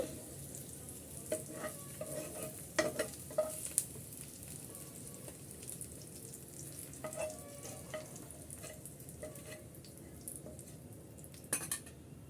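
Dried red chillies fry in a pan with a low, steady sizzle, while a utensil stirs and scrapes against the metal in scattered clinks and knocks.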